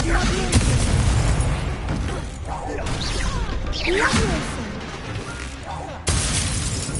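Incendio fire spell bursts in Hogwarts Legacy, loud whooshing blasts and crackling booms overlapping with other spell effects and combat clatter, dense and busy throughout.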